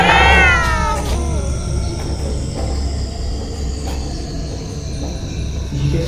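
A cat meows loudly and close by, one drawn-out wailing call at the start, followed by a steady low rumbling background with faint scattered sounds.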